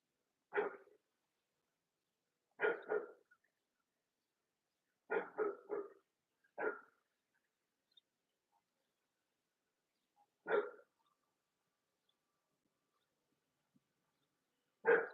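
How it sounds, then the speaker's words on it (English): A dog barks alone in a quiet room, a handful of short single and double barks spaced several seconds apart, faint and somewhat distant. "Oh boy, here goes the dog. Now he's barking."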